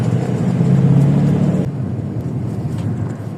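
Heavy road traffic rumbles past, a steady loud roar of many cars close by with a strong engine drone early on that eases off halfway.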